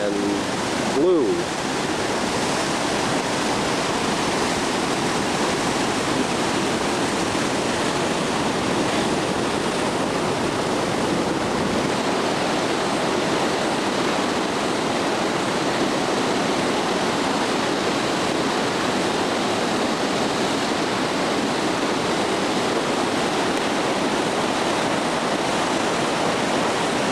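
Huka Falls pours and churns through rapids below Lake Taupo, New Zealand, making a loud, constant broadband roar close by that holds steady throughout, with a brief disturbance at the very start.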